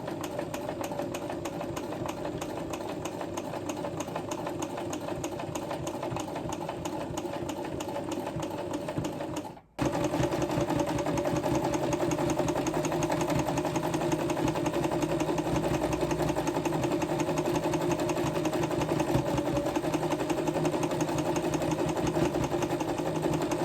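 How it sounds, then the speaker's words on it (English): A sewing machine stitching umbrella fabric runs in a continuous fast whirring rattle, close and loud, stopping for a split second midway before carrying on at the same steady pace. "now I've sewn the middle"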